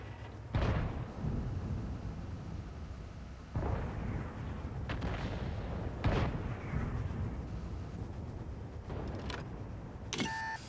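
Tank cannon fire and artillery shots in the video game World of Tanks, several heavy booming blasts spaced a few seconds apart over a continuous engine rumble, loud and close.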